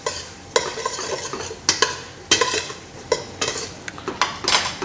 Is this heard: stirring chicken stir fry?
yes